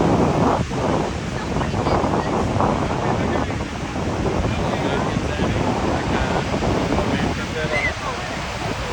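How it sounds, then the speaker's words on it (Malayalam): Niagara Falls water crashes and sprays on the Canadian side as a loud, continuous roaring rush buffeted by wind noise, with voices talking over it. "വെള്ളം ഇങ്ങനെ തെറിക്കുന്നുണ്ട് മൊത്തം"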